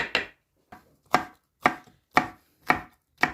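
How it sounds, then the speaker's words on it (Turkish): Knife chopping green peppers into thick rings on a cutting board, seven crisp evenly spaced strokes with short pauses between, close and clear with no talking. "Yeşil biberleri de halka halka iri iri doğruyoruz."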